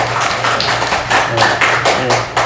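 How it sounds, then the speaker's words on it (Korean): Church congregation clapping together in steady rhythmic beats during Sunday worship, a dense, fairly loud run of claps with a low hum underneath and no talk over it. "이렇게 박수치면 또 잠도 깨니까요"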